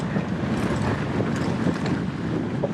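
Strong wind buffets the microphone on an open moorland trail, a loud, constant roar with gusty low rumbles and no speech.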